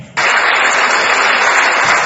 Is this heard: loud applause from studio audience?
yes